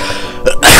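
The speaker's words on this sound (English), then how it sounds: "Now I'm sneezing." A single sharp, loud human sneeze, close and brief, heard during Minecraft gameplay.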